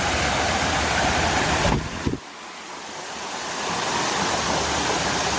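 A river flows near St Peters Village, making a steady, loud rushing wash mixed with wind buffeting on the microphone, briefly dipping in the middle with a handling bump before the rush builds again.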